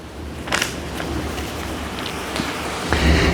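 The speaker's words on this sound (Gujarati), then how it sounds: "આ તો વરસાદ જમાવટ કરી છે" Heavy rain falls in a steady, dense hiss, with a few louder spatters and gusts rising over the wash of water.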